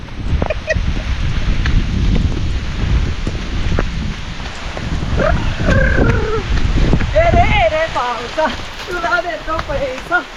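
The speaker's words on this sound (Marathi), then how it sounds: "पाऊस काय थांबायचं नाव घेत नाही" Heavy rain roars steadily and loudly throughout, and voices talk over the downpour in the second half.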